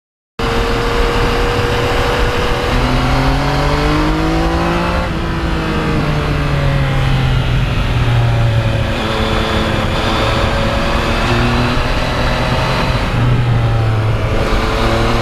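A Yamaha MT-09 motorcycle with a quick shifter revs hard while being ridden, its engine note climbing and dropping through several quick gear changes, loud and close with steady wind noise underneath.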